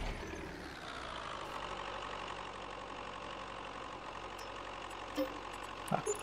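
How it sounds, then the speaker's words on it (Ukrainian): A tractor engine in Farming Simulator 22 idles roughly with a steady low knocking rumble, continuous and moderately faint, with a couple of small clanks near the end. "Як завжди трактор ковбасить."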